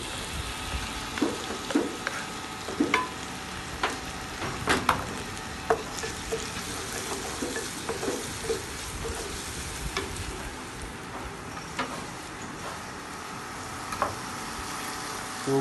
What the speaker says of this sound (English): We will add the chopped tomato.